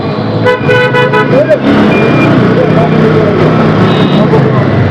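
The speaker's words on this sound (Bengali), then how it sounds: "আর এই পেছনটাকে এই যে হর্ন দিচ্ছে" Several short, loud car horn toots blare close by in dense road traffic, heard from a motorcycle, over a constant engine and traffic rumble.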